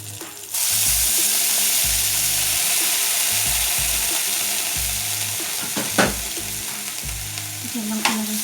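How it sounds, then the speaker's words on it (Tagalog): Century tuna hits a hot pan with tomato and sizzles loudly, a sharp frying hiss with clinks and scraping of a utensil stirring, close and continuous. "ngayon po ilagay ko po yung ating century tuna"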